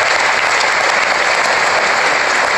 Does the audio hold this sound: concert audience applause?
yes